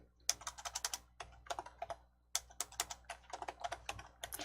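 Computer keyboard typing a file name, quick bursts of crisp key taps in two runs separated by a short pause, close and clear with no talk.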